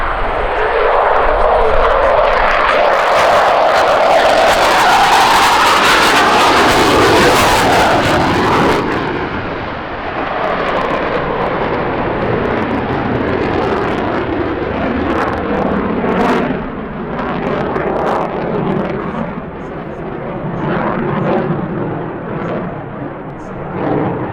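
A CF-18 Hornet jet roars past at an air show in Gatineau, loud and close at first, then fading to a distant rumble, with a commentator talking throughout.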